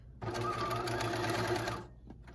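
A sewing machine runs in one steady continuous burst, stitching a pocket circle down onto a fleece pullover, then stops, leaving a short quiet tail.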